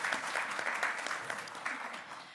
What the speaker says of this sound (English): One more round of applause for Alex.